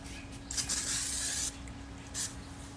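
Two bursts of mosquito repellent aerosol spray hiss, a longer one lasting about a second and a shorter one after a pause, close by and fairly quiet.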